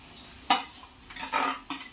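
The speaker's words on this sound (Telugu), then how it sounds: "ఇప్పుడు ఆనియన్స్ వేగినాయి, నేను ఈ ముక్కలన్నీ వేసేస్తున్నాను" Pieces of gram flour pancake are tipped into fried onions in a pan, and a spoon stirs with a few sharp metallic clanks and scraping bursts, close and clear against quiet background.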